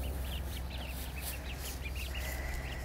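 Young ducklings in a backyard pen give soft, high repeated peeps in quick succession, faint and somewhat distant over a steady low background rumble.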